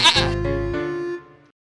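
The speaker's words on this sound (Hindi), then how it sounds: "बकरी का नाम शेरनी?" A goat lets out a single loud, drawn-out bleat close by, starting with a sharp burst and quavering for more than a second before trailing off into silence.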